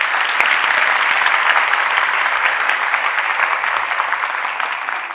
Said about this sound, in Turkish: Ona buradan kocaman bir alkış var